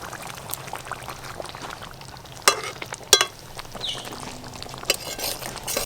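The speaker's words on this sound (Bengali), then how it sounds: "ভেজে রাখা সব মাছ দিয়ে দেবো।" Fried pangas fish pieces going into a pot of bubbling oily curry over a village cook fire, with a steady low sizzle and bubbling broken by a few sharp splashes and clanks as the fish drops in.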